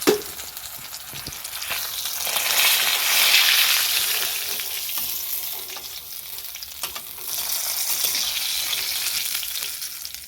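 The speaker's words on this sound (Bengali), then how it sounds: "এরকমভাবে সব মাছগুলো ভেজে নেব।" Large pieces of fish fry in hot oil, a dense, steady crackling sizzle that swells and eases while staying close and loud, with no talking.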